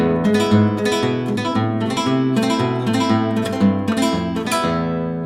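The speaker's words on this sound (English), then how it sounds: "Forward arpeggio would sound like this in that same style." Forward arpeggio in Malaguena style on a classical guitar, with plucked nylon strings rolling upward in quick, even, repeating note patterns that ring and overlap, played close and clear without any speech.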